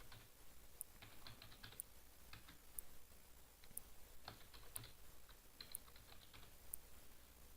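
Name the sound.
typing a password on a computer keyboard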